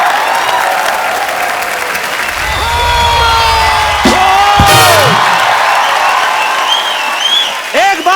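A television comedy show's studio audience applauds loudly after a music performance, with cheering and whoops rising over the sustained clapping and tonal sounds weaving through it.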